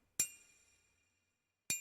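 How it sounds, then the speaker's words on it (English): A hammer strikes a nail in a music track, giving two sharp metallic hits about a second and a half apart. The first leaves a bright ringing tail that fades to silence. "Like, it's just a hammer. And nail."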